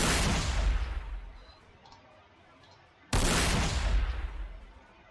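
Cannon and bolter fire in the Warhammer 40,000: Sanctus Reach video game: two loud, booming shots a few seconds apart, each followed by a rumbling decay.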